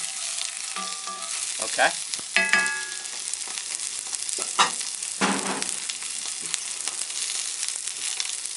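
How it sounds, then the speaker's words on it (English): Onion fries gently in a pan on low heat, a soft, steady sizzle with scattered clinks and scrapes of stirring nearby; someone says a brief word partway through. "Just get a little color on the onion."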